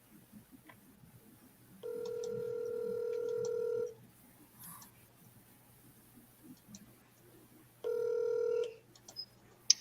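Ringback tones of a telephone call, two long steady tones about six seconds apart, clear and close against a quiet room with faint shuffling.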